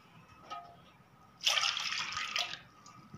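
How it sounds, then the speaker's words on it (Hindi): About three cups of milk pour into a pot for a malai roll dessert, a soft liquid splash lasting roughly a second amid quiet kitchen background. "यहाँ मैं 3 कप इसमें दूध डाल लूँगी।"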